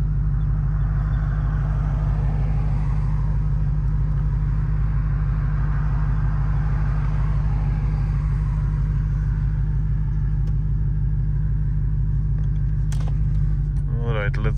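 A Dodge Challenger fitted with a wide body kit drives along, its engine a heavy, steady low rumble from inside the cabin, loud and continuous, with a person talking over it.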